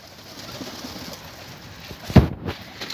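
Outdoors, a young pigeon gives soft cooing calls, faint and low at first, then a louder, close burst of flapping or movement near the end.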